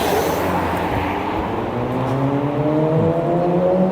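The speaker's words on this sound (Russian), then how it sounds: "пока нас не догнал мотоциклист" A motorcycle rides past on a street on Yaroslaviv Val in Kyiv, its loud engine droning steadily close by and rising in pitch as it accelerates.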